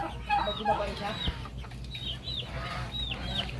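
Backyard farm chickens, including silky and gold-brown birds, cluck and chirp in short repeated calls at close range, with a steady low hum underneath.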